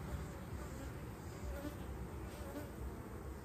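A small swarm of bees buzzes steadily and continuously, a dense, close droning hum with no voices over it.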